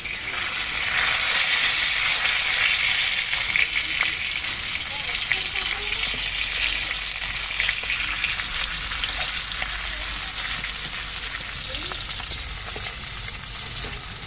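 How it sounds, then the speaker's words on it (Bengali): Fish sizzling steadily in hot oil in a pan, with no pause: a loud, dense, continuous crackle and hiss that runs for the whole stretch, close up. "মাছটা ভালো করে ভেজে নিলাম"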